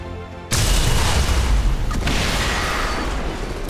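A sudden loud explosion in the video game XCOM 2 bursts in and rolls on as a heavy, roaring blast with rumbling debris that slowly fades.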